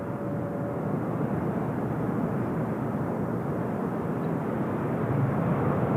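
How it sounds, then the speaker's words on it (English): Air Japan airliner taking off, a steady, loud broadband jet roar that holds at a constant level throughout with no pauses, heard from a spotting position at an airport. "Air Japan off to Narita."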